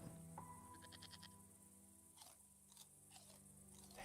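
In the Broken Sword 5 video game a goat bleats in a quick wavering series, followed by soft chewing and crunching sounds against quiet game ambience.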